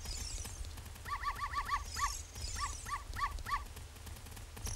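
A dog in The Legend of Zelda: Ocarina of Time gives a run of high, repeated whimpering yips in short clustered bursts, fairly close, over a low steady game background.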